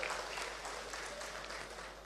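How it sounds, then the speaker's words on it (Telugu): Audience applause at a backward-classes awareness meeting in Telangana, a faint, distant continuous clapping wash that holds steady at low level without any talk over it. "నచ్చితే చప్పట్లు కొట్టండి"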